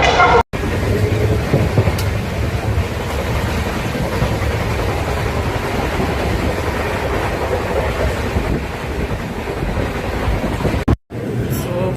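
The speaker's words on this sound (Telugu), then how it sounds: "ఇది కూడా చూపిస్తా చూడండి ఒకసారి రైల్వే స్టేషన్ ఎట్లుందో." Ambience at Secunderabad railway station: a continuous rumble of rail traffic mixed with gusty wind buffeting the microphone, steady and fairly loud with two brief dropouts.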